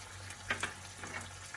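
A pan of brinjal chutney boiling and sizzling gently over a steady low hum, with a couple of brief clinks or stirs near the middle. No voices.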